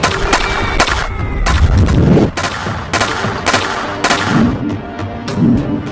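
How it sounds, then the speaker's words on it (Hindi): A plastic toy gun fires in rapid, loud bursts of sharp cracks, repeating in an uneven rhythm across several seconds with no talking. "फातिमा प्लास्टिक गन से फायर करने लगती है"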